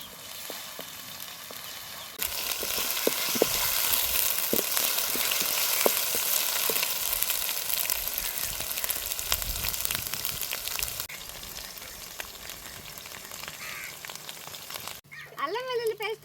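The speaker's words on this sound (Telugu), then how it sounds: "అల్లం వెల్లుల్లి పేస్ట్ పచ్చివాసన పోయేంత వరకు ఇలాగ నూనెలోనే ఉడకబెడతాను." Ginger garlic paste fries with onions in hot oil for a village-style crab and brinjal curry, a loud, dense, continuous sizzle with occasional stirring knocks that eases off and ends with a brief voice.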